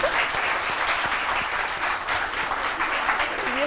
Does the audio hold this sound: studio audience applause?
yes